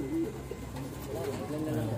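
Soft, low cooing of flying and breeding pigeons at a loft comes through steady background noise, with a few faint bird calls mixed in.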